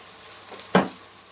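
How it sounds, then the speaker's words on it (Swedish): Pieces of chicken browning in hot fat in a large pot give a soft, low background sizzle, broken by one short loud burst as food is stirred or added, then settling back to a quiet hiss. "Bryn till första omgången."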